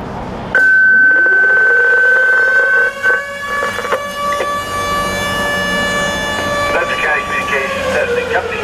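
A major fire company siren sounds during a scheduled 6:30 pm test in Bedford County, starting abruptly, winding up to a loud sustained wail and holding steady with slight pitch shifts, with a voice speaking over it.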